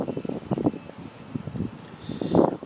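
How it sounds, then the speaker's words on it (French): Wind gusts buffet the microphone outdoors during a plant tour among garden plants, coming as irregular low rumbling bursts with a louder gust near the end and no talk. "désolé du vent"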